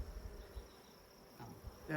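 Honey bees buzz around a beehive, a faint steady hum with outdoor rustle beneath it.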